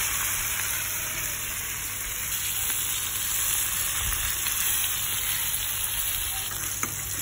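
Small fish fry in hot oil in a pan, giving a steady, close sizzle with a continuous crackling hiss and occasional soft stirring, with no talking.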